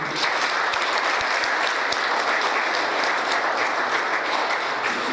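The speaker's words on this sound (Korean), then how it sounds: "유재풍 교수님을 큰 박수로 모시겠습니다" An audience at a Korean security lecture event claps steadily to welcome a professor to the stage, a dense, even wall of applause that holds at the same level for several seconds.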